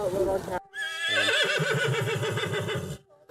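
A horse gives a long, loud, close whinny with a shaky rising and falling pitch, lasting a couple of seconds, on a long trail ride near Wood Mountain.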